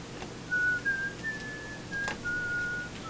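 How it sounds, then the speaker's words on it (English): A person whistles a short tune alone, thin and tonal with a few wavering notes and pauses over a quiet room hiss. "But whistling isn't good for audio."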